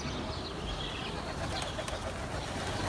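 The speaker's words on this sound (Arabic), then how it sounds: "الحمام اهو شغال براحته، واللي عايز ينزل هنسويه ينزل" Pigeons coo softly at a rooftop loft amid a steady background hum, with faint wing flutters as birds come down to land.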